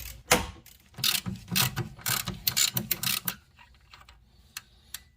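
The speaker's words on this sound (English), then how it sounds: "You just keep spinning the bolt and then put like a wrench on this side" A ratchet wrench spins a rear strut bolt on a Subaru Forester, giving rapid bursts of close, sharp clicking that come in uneven runs before fading to a few scattered ticks.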